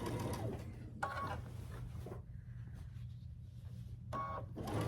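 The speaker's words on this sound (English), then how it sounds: "I'll start sewing at a 1/4 inch" A sewing machine stitches quilt binding at a quarter-inch seam, a steady low mechanical hum with bursts of faster whirring, quiet and close.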